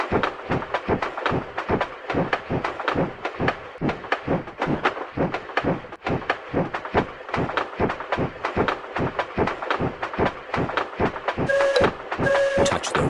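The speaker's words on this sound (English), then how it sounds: "Turn the wheel to make the train go faster." Cartoon train in a Peppa Pig train ride video game, a steady, loud clickety-clack rhythm running on throughout, with a brief two-tone whistle near the end.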